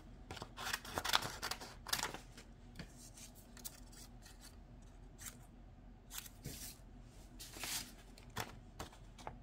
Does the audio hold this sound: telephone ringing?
no